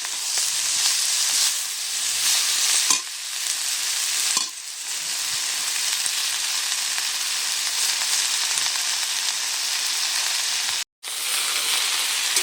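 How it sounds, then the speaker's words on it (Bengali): Freshly washed greens tossed into a pan of lightly fried prawns, a loud, steady hissing sizzle with occasional stirring scrapes and brief dips, continuing without any talk. "এবারে আমি এখানে ধুয়ে রাখা শাকগুলো দিয়ে দেবো।"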